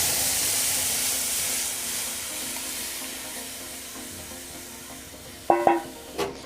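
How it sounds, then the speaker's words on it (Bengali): Red lentils tipped into hot oil seasoned with panch phoron and dry red chilli give a steady, close sizzling hiss, broken near the end by a few sharp bursts and crackles as they hit the pan. "এবার আমি ওই তেলের মধ্যে এই ডাল এখন দিয়ে দিচ্ছি"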